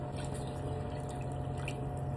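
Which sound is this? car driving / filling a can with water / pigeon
filling a can with water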